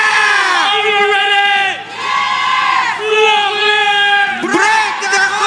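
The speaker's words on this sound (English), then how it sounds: "We gotta get everybody pumped up to cheer for Blacklist International" Excited crowd of fans cheering and shouting for the Blacklist International esports team at the MSC 2023 grand final against ONIC, a loud sustained roar with rising whoops and chant-like swells throughout.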